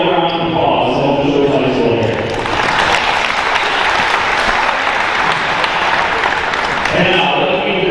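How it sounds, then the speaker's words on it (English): Applause for a girls' varsity volleyball team in a gym, a steady crowd clapping that swells and lasts several seconds between announcements over a speaker. "Please all give them a round of applause."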